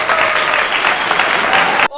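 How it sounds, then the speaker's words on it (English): Loud applause from a television studio audience fills the moment, dense and continuous for about two seconds before cutting off abruptly. "A round of applause."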